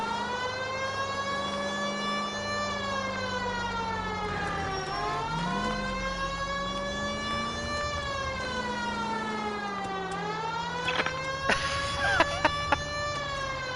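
A police car siren wails continuously in the video game LA Noire, a loud steady rising and falling tone, close by, with someone talking briefly underneath and a few clicks near the end.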